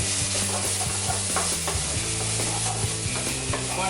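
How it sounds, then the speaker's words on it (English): Bacon sizzles in a pan with shallots and garlic while a utensil stirs it in steady, scraping strokes, loud and close throughout. "Gonna add the bacon in it."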